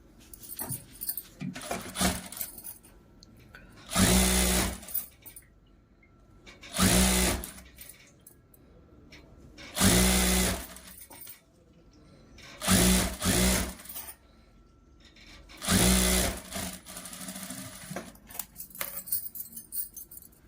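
Sewing machine stitching a blouse sleeve in a tailoring lesson: five or six short bursts of rapid stitching, each a second or two, separated by quiet pauses with small handling clicks.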